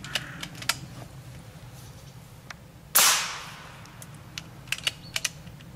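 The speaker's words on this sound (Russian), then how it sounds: "Сейчас выстрелим в старый Samsung." A PCP air rifle fires a single sharp shot into an old Samsung monitor, a loud crack with a short decaying tail midway, amid scattered faint clicks and handling noise.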